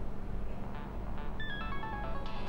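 A mobile phone ringtone plays a short, bright melodic run over a steady low background hum, fairly faint and without speech.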